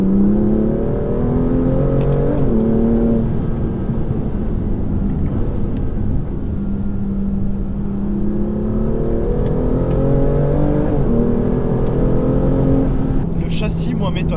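A Cup 2 version car driven on a track, its engine droning loud and steady with rising and falling pitch as it accelerates and shifts, heard from close by throughout.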